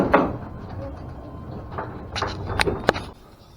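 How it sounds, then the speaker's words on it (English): A garage door opens in a home workshop, heard as faint rattling and scraping that builds into a few sharp knocks and clatters toward the end. "Somebody's opening my garage door."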